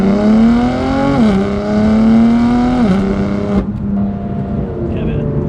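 A BMW M4 GTS with its S55 engine and Active Autowerke equal-length exhaust revs up close and loud, climbing in pitch twice from a rumbling idle before settling back to a steady idle.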